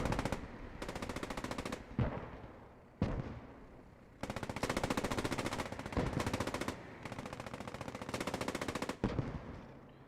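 Gunfire in the Post Scriptum war game, with long rapid machine-gun bursts and heavy single tank cannon shots between them. The firing is loud and close and stops briefly between bursts.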